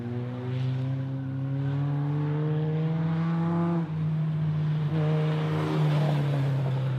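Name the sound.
mini NASCAR race car engine under throttle on track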